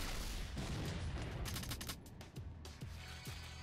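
Rapid gunfire rattles in the shooter game S.T.A.L.K.E.R., loud bursts of shots followed by a few separate single reports.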